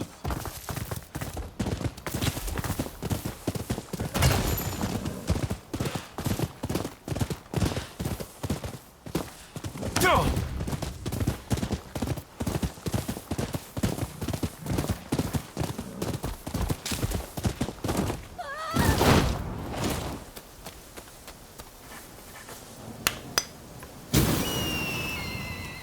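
Horse hooves clip-clop steadily and fast in the samurai action game Rise of the Ronin, a long run of close, rhythmic hoofbeats with brief breaks and shifts in pace.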